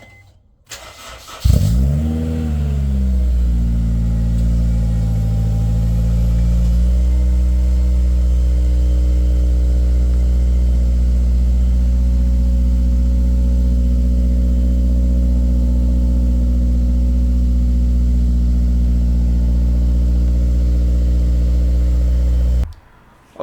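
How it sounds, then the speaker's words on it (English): A Honda S2000 fitted with a Skunk2 exhaust starts up with a quick rev, then idles in a deep, steady, loud drone for about twenty seconds, close and with no talking. "I think it's a Skunk 2 exhaust. I think it sounds pretty good."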